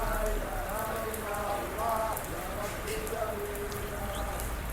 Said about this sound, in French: pluie battante